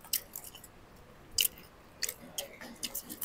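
Crunchy fried chicken poppers are chewed close to the microphone, giving irregular crisp crunches and bites over a soft, quiet background.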